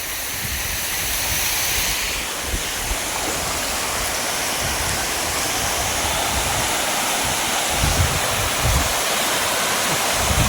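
Hidden waterfall on a Kolli Hills trek pouring into a deep rock pool, a loud continuous rushing roar close by with splashing surges and no talking.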